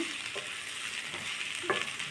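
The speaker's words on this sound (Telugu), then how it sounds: "ఇది మెత్తబడుతుంది చింతపండు అందుకని వేడిలో కొంచెం ఫ్రై చేస్తున్నాను" Tamarind frying in a hot pan for a ridge gourd peel and coriander chutney, a continuous dense sizzle with occasional scraping stirs, moderately loud and close, no talking.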